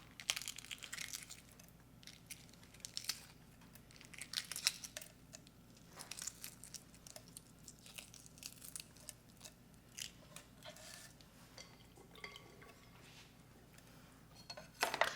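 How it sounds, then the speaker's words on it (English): Hard-boiled eggs being peeled by hand, giving faint, close crackling and crinkling bursts of shell breaking and flaking off, scattered irregularly through a quiet kitchen background. "let me go ahead and peel these eggs"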